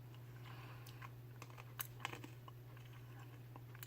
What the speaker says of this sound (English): Chewing a cough drop.